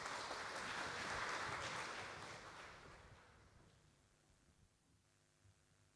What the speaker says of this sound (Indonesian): Satu tepukan yang gemuruh kepada Tuhan